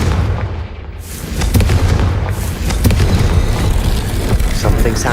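Confringo fire spell blasts in Hogwarts Legacy, a loud, dense barrage of booming, crackling explosions that fills the whole clip with continuous rumbling impacts and sharp cracks.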